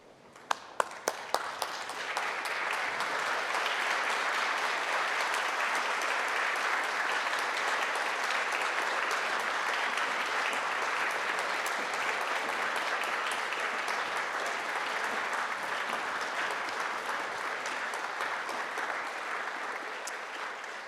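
A graduation audience at a University of Liverpool ceremony applauds its senior officers, with a few scattered claps swelling into loud, sustained, dense clapping that fills the hall for about twenty seconds.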